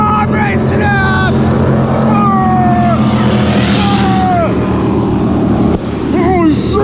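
A Sea-Doo RXT-X 300 jet ski with a Riva Racing Stage 1 kit roars steadily on a waterway as a 2000 HP race boat races past, a loud, continuous engine drone with excited voices shouting over it.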